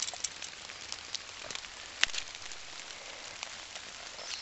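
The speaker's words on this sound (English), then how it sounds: "Look how much it's been raining." Steady rain patters on surfaces around a wet wild camp, a broad continuous hiss with scattered sharper drops and one distinct tap partway through, no voices.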